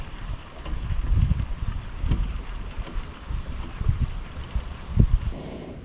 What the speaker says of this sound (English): I can promise you that this wind isn't doing us any favors